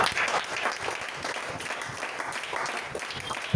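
A church audience breaks into sustained applause after a call to acclaim God, dense clapping filling the room at an even level for several seconds, with a faint murmur of voices underneath.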